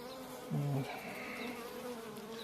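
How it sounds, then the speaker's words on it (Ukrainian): Honeybees in a hive after winter give off a soft, faint buzz, with one louder buzzing pass close by for a moment amid a low steady hum. "Трішки бджілок тут і є."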